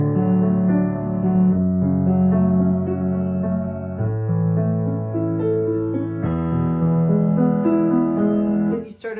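A piano plays a broken chord as a steady arpeggio, the notes ringing and overlapping close up with no voices.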